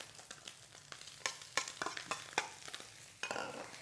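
Rice being stir-fried in a hot wok with oil for Thai-style pineapple fried rice, with irregular scraping and tossing strokes over a soft sizzle, moderately close.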